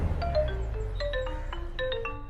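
A phone ringtone plays a steady electronic melody of repeating tones at moderate volume, signalling a call from the office in a Hindi-dubbed action film scene.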